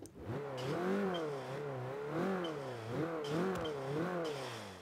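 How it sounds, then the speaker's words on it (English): Forza 5 game engine of a turbocharged Scion tC drift build revving up and down in repeated surges, with a whining turbo note rising and falling over a low growl. "Oh, listen to the turbo."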